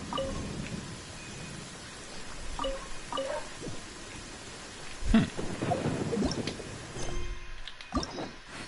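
Rain patters steadily in the video game Genshin Impact while a low thunder rumble rolls in the middle, with scattered splashy crackles and no talking.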